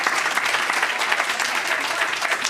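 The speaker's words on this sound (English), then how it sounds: "so please a round of applause for our scientists." Dense, steady applause from the audience at a NASA InSight Mars lander pre-landing question-and-answer session, sustained and fairly loud with no voices over it.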